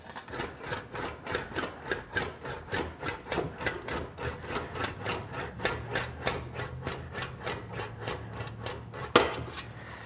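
An English wheel rolls sheet metal being shaped into a gas tank, a steady series of evenly spaced rasping, rubbing passes close by, with a sharper knock near the end.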